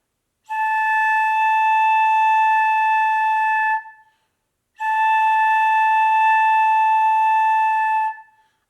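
Two long, steady breathy tones from a flute headjoint alone, each held a few seconds, separated by a short silence, clean and close with no speech.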